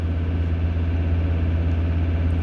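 A Ford 6.7 diesel engine idles at a fixed raised RPM during a DPF regeneration, giving a loud, steady low hum and drone that holds an even pitch throughout.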